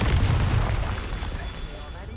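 A Confringo spell explodes in Hogwarts Legacy as a single loud, deep boom that bursts at once and then rumbles away over about two seconds.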